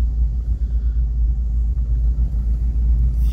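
Car engine during a driving lesson, a steady, close, loud low rumble holding an even pace without revving, with no talk.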